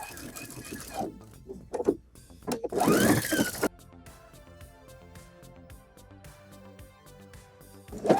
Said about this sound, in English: I'm stitching in the crease of the bias tape